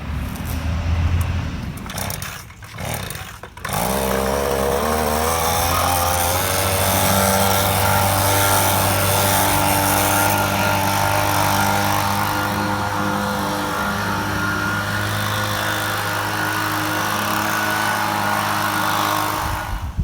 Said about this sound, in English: I'm going to grab the blower and give it a quick blow to make sure the area is clean.